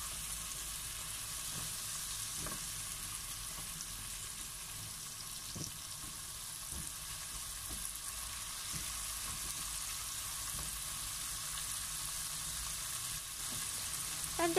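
Chicken and bitter gourd sizzle in a pan in a steady, soft frying hiss, with faint scrapes and taps from stirring scattered throughout.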